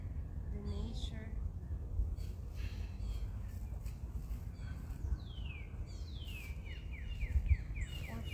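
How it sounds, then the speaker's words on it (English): Several birds chirp and trill faintly in the distance, with a run of quick descending calls near the end, over low outdoor rumble. "You can listen to the birds"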